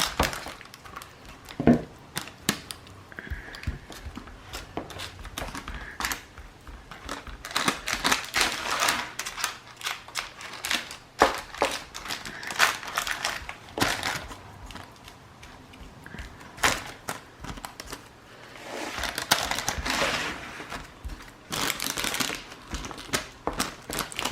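Sticky no-bake muesli bar mixture being spread and firmly pressed down with a spoon, giving a steady run of close crinkling, tapping and scraping sounds with no voices.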